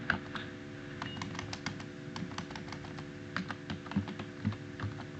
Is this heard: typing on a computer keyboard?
yes